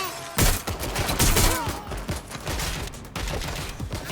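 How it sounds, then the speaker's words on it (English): A burst of rapid gunfire fills a firefight in the video game Watch Dogs Legion, loud and dense with overlapping shots, clattering mechanisms and chaotic action throughout. "They're shooting!"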